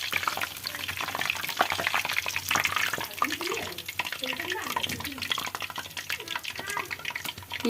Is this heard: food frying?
yes